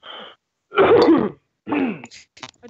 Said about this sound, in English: I tried to mute my microphone so I didn't cough